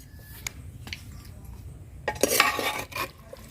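A spoon scrapes and knocks around a pot of handi chicken in a ground-spice gravy, with a few light clinks at first and then a louder burst of stirring near the end.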